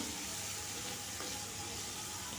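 Green chillies and capsicum frying in a pan for paneer fried rice, a steady close sizzle and hiss with no break.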